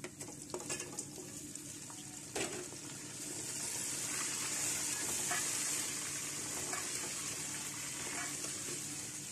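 Steady sizzling of boiled beef frying in a pan for biryani, with occasional clinks and stirring scrapes, growing a bit louder midway; no talking.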